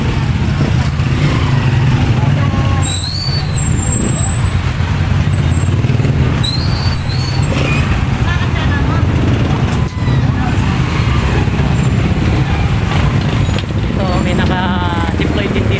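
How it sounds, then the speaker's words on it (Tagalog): Steady, loud road traffic of cars, buses and motorcycles near the public cemetery of Angeles City, Pampanga, with a constant engine rumble, passing vehicles and a few horn toots, while people talk over it throughout. "Oh, traffic na."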